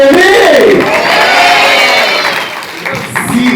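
An audience applauds and cheers young performers at a family celebration, a loud burst of clapping and shouts that eases off after a couple of seconds and then picks up slightly again.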